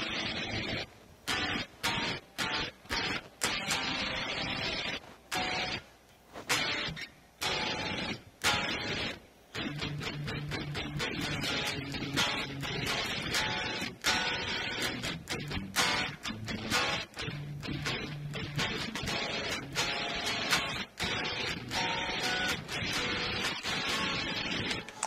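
Distorted electric guitar through a Positive Grid JamUp amp simulator plays loud, dense chords with choppy stops and bursts, then rings out in sustained heavy strumming.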